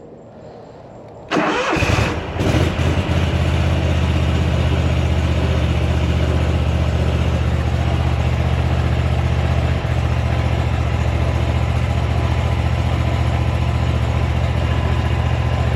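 A riding lawn mower engine cranks and catches after a brief quiet moment, then settles into a loud, steady, throaty idle that runs on close by without a break.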